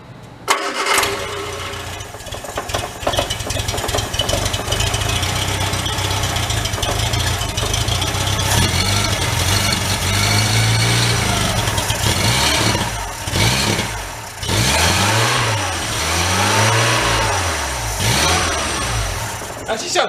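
The rear engine of a 1965 Hillman Imp, revived after sitting unrun for thirty years, cranks and catches, then runs with a rough, uneven idle and several rising revs, loud and close, with voices talking over it.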